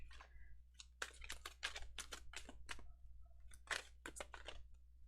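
A deck of tarot cards is shuffled by hand, making a quick series of crisp, papery clicks and riffling bursts, close and quiet, with no voices.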